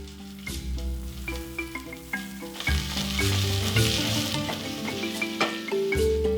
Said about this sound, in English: we will straight away add our onions and start cooking them to sweat